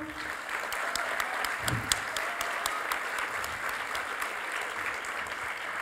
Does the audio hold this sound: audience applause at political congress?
yes